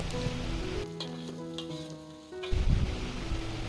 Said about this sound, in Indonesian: Sambil kita aduk jengkol dan kita goreng hingga berubah warna kuning kecoklatan